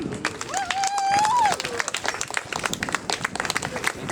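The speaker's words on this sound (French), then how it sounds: "Un bon applaudissement." Outdoor crowd applause at a rally against electroshock therapy, scattered sharp claps throughout, with a whistle-like tone rising over them early on.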